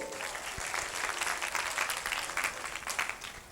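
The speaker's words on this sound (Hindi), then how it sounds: "जोरदार तालियां उनके लिए" Loud, dense applause from a youth convention audience in a church diocese hall, steady and sustained across the whole stretch with no voices over it.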